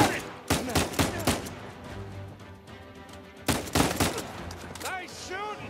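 Bursts of gunfire in the PlayStation 4 action game Uncharted 4: A Thief's End, loud clustered shots in two volleys with quieter gaps, ringing tails and game sounds between.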